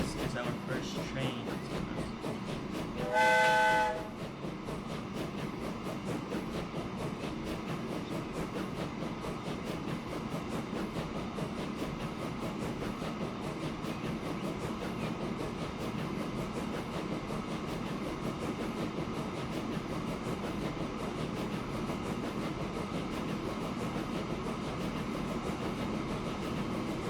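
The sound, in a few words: train running in video game Transport Fever 2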